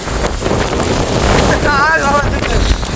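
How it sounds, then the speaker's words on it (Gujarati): Strong windstorm wind in Mahuva roars steadily against the microphone, blowing plates away, with a rushing, buffeting noise and a brief rising whine partway through. "જો એટલા પવન બધી થાળીઓ ઉડવા માંડી છે."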